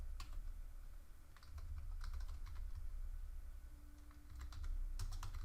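Irregular, light clicks of typing on a computer keyboard come in scattered bursts, quiet and close against a low background hum.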